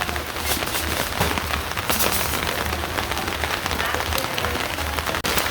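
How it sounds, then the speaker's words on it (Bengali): Dense, steady rain pattering on a surface nearby, a continuous rushing patter with no voices. "বৃষ্টি ভালো হয়েছে"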